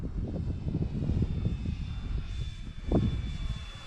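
The DRACO model airplane's engine buzzes past at just under half throttle, a steady droning whine that swells briefly as it passes, with wind noise mixed in and no speech.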